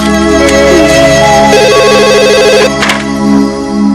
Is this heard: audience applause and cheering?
no